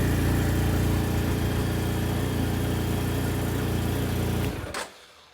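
A motorcycle engine, running after its low battery was boosted with a 30-watt power bank, idles loudly and close with a steady throbbing rumble for several seconds before it cuts off and falls quiet.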